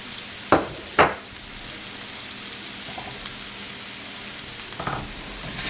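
Bacon sizzles with potatoes in a skillet, a steady close frying hiss with a couple of sharp spatula scrapes and taps near the start.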